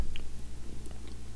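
A cat purrs close up, a low continuous rumble pulsing softly in a steady rhythm, with no talk over it.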